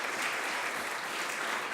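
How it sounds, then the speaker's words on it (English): Steady, full applause fills a mayor's press conference room for two graduates of a restorative justice guild, continuous and fairly loud, with no talking over it. "Give them a round of applause."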